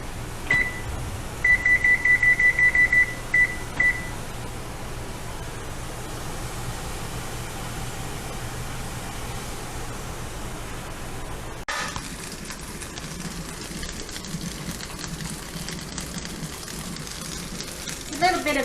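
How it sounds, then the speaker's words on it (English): A pot of jalapeno jelly boils on a stovetop with steady hissing, bubbling noise for the whole stretch, after a short series of electronic beeps early on and a change in tone partway through. "Bring them up, back up to a boil for 10 minutes."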